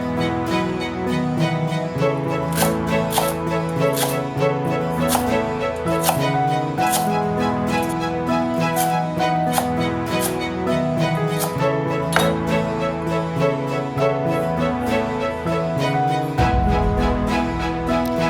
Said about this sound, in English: For chives, I will slice it into about 2 to 3 millimeters thickness.